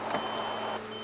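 The electric lift bed in a Mercedes-Benz 814D motorhome runs its motor, giving a short, steady mechanical whine with a faint hum, close by and alone.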